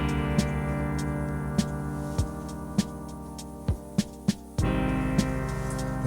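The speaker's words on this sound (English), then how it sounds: "It's that grand piano." Grand piano chords ring out over a sustained backing arrangement in a song, struck at spaced intervals with some quicker repeated hits, moderately loud with no talking.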